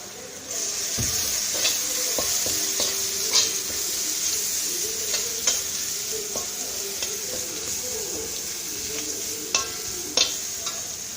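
Tender jackfruit being stir-fried with crushed chili in a Kerala-style thoran, a steady sizzle running throughout with repeated scraping stirs and occasional utensil taps, close and fairly loud, no voices.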